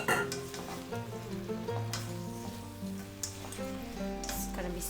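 Onion, tomato and dry soybean sizzling in a pan for an oil-free spicy beef curry, a soft steady frying hiss with occasional stirring clinks beneath a musical background.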